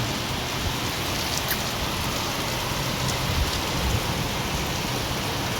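Heavy rain keeps falling outside a house by a highway, a thick constant wash of drops with a few sharper spatters standing out, no one talking.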